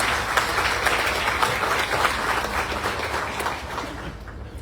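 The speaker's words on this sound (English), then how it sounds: "Let's give them a round of applause as they carry the water." Clapping from a crowd at an arena groundbreaking ceremony in Macon rings out fairly loud and continuous, then tapers off and thins toward the end.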